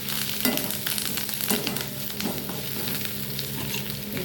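Curry leaves frying in a pan for a bottle gourd chutney, a steady close sizzle broken by a few scraping stirs of a spoon, with no talking.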